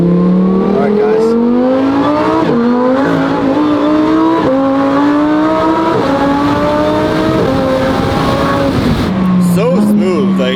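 A supercharged Lamborghini STO accelerates hard and loud, its engine note climbing steadily through several gear shifts with a continuous roar and a supercharger whine, heard from close up inside or near the car.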